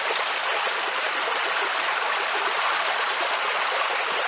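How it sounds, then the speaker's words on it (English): Running water of Horfield Brook flowing beyond an iron grating at the end of an urban street in Bristol, a steady close rushing and trickling that carries on unbroken without any talk. "I can hear the sound of running water at the end of this street."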